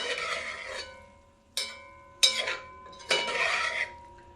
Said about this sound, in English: be careful how you stir, so you don't want to break up the ackee too much